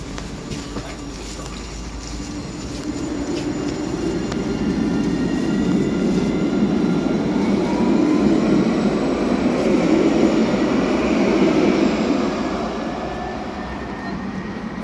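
A Jerusalem light rail train rumbles past steadily, with a rising and fading hum and faint high squealing from the wheels.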